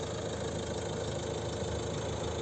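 A 2009 Volvo V50 with a 2.0 common-rail diesel of 136 horsepower and six-speed manual idles steadily, a close, even mechanical rumble with a faint clatter and no variation in speed.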